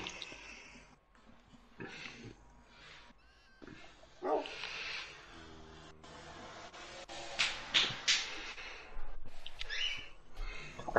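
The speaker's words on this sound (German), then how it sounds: "Kleiner Hund." A dog in the video game Minecraft yelps, barks and whimpers in short, irregular bursts, with a few louder peaks toward the end and little else around it.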